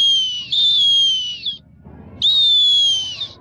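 A person whistles in imitation of a kite's call: two long, loud, high tonal cries, each holding steady with a slight downward slide, separated by a short gap over faint background murmur.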